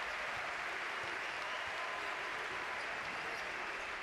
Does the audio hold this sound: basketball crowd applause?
yes